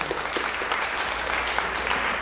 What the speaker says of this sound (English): we thank them and we just clap for them